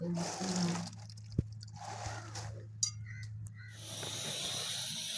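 Moringa drumsticks are washed under running water in a home kitchen, a hissing flow with a few knocks and clinks that pauses briefly and then resumes.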